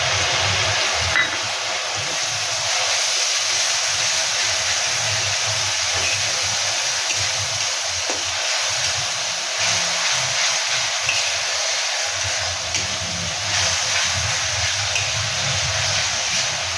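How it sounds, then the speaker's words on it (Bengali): Tomato paste frying in hot oil for a Bengali soybean curry gives a steady, close sizzling hiss that runs unbroken with small crackles throughout. "টমেটোটাও তেল ছাড়া অবধি কষে নেব"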